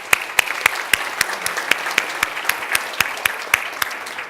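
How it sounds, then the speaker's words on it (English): A small audience at an economic outlook event gives a round of applause, the separate claps distinct and rhythmic, close and fairly loud, holding steady throughout with no voices over it. "We applaud you all"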